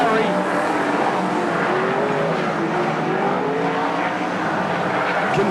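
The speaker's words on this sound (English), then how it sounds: "Continuing to impress in his return to sprint car racing, Nathan Roberts." Sprint cars race around a dirt speedway track, their engines roaring steadily and loudly throughout with a continuous droning, rising and falling pitch as the cars circle; a commentator's voice runs faintly underneath.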